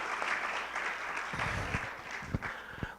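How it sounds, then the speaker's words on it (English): Audience clapping at a panel session on documenting and archiving the internet, moderate and somewhat distant, with a few sharper individual claps standing out toward the end. "Give them a round of applause, please."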